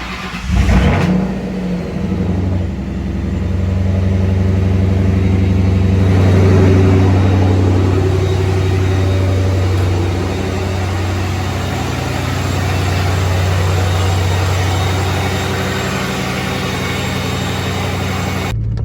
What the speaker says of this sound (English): just start the car. And hopefully it'll start and idle and everything will be okay.